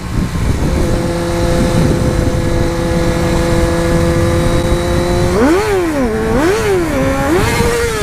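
A motorcycle engine holds a steady drone, then revs up and down in quick swells during wheelies, loud and close with no talking.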